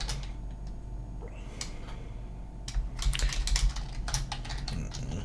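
Fingers tapping out a password on a computer keyboard, a quick run of close, crisp key clicks that grows busier and denser in the second half over a low background hum.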